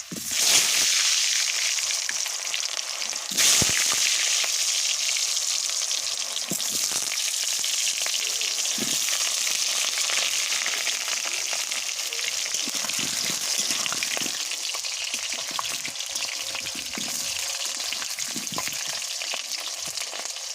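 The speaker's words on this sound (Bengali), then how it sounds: "দেখুন আমার মা আলুটা ভেজে নিচ্ছে।" Potatoes frying in oil in a wok give a steady, loud, continuous sizzle throughout, with an occasional stir or knock and no speech.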